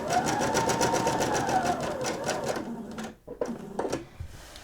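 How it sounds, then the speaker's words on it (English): Sewing machine stitching the neckline of a nightgown, a steady rapid needle rhythm running for about three seconds, then stopping and restarting in short bursts near the end. "Be careful not to let the neck stretch as you sew it."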